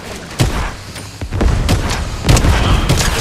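Weapon fire in Fortnite booms in heavy, spaced shots over a dense, loud game soundscape, close and full-bodied, with no speech.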